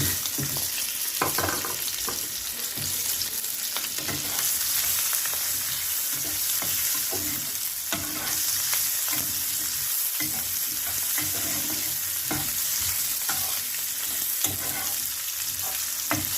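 Chopped onions, added after minced garlic, frying in a pan for an egg curry, with a steady close sizzle and repeated spatula scrapes and stirs throughout.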